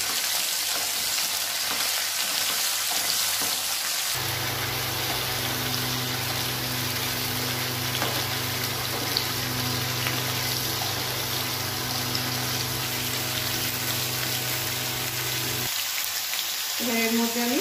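Mixed vegetables with eggplant and green chili sizzle and fry in a pan while being stirred, a steady hiss running throughout, with scraping stirs near the start and end and no talking.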